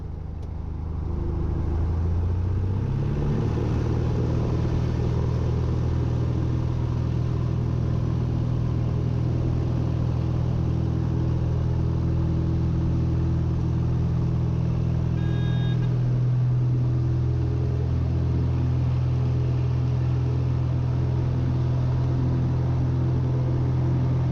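Cessna 170 engine powering up for takeoff from a grass strip: a loud, steady low droning rumble that holds throughout, with a slight shift in pitch partway through.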